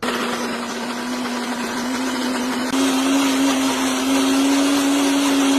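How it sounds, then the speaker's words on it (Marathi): Loud, steady whirring drone of a mixer grinder blending moong beans, garlic, green chili and ginger with a little water into dosa batter, its pitch rising slightly partway through. "मिक्सरच्या भांड्यामध्ये घेतले मूग आणि त्यामध्ये टाकले लसूण, हिरवी मिरची, थोडासा आल्याचा तुकडा"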